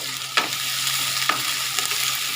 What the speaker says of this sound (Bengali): আমি ভালো করে ভাজাটা করে নেব